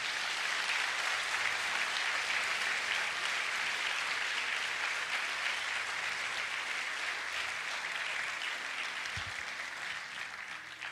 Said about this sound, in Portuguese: Aplauda Jesus com alegria